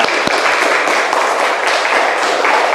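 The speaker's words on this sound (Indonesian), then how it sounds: "Tepuk tangan ya." Audience applause in a classroom during a teaching session, a steady, close patter of many hands clapping together that carries on for a few seconds without a break.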